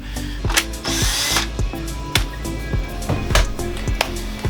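An old, heavy cordless drill, not an impact drill, whirs in short bursts, spinning up and stopping repeatedly, with clicks and clunks of handling between runs.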